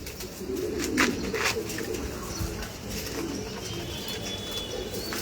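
Pigeons coo steadily at a pigeon farm in Mirpur, Dhaka, a low, continuous murmur of many birds with brief higher chirps and rustles layered over it, moderately loud and without talk.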